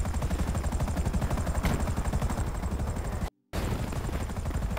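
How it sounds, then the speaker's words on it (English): Gunfire in an open-world crime video game: a sustained stream of rapid shots and rattling bursts, fairly dense and mid-distance, running continuously with one brief dropout near the end. "They are shooting from another side."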